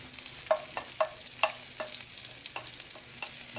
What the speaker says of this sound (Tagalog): Halo-haloin na uli natin